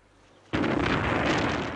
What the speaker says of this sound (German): Ein Kanonenschuss des Kreuzers Aurora gibt das Signal zum Sturm auf das Winterpalais